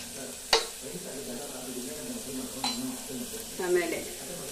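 Raw pulses tipped into oil over browned onions for masala rice, a low continuous sizzle marked by a sharp clank of a utensil against the pan, another metallic tap and a short stirring scrape.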